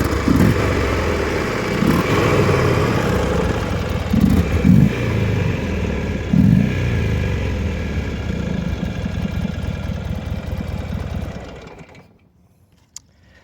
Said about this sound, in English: It is warm, so we can go ahead and rev it real quick.